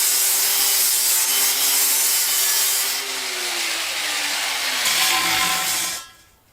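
Rust is scrubbed off an old truck part with a power tool, a loud steady abrasive grinding and whirring that breaks briefly midway, then stops abruptly near the end.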